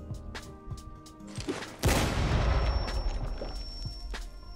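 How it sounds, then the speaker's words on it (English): A grenade detonates in Rainbow Six Siege with a sudden loud boom that rolls into a long, rumbling, debris-filled decay, preceded by scattered faint in-game clicks and footsteps. "So I'll go underneath and toss a grenade like so."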